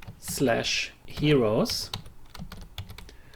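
A quick burst of keyboard typing as a URL is entered, soft irregular clicks heard under and right after someone talking.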